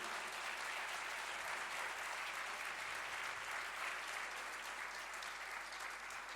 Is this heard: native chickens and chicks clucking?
no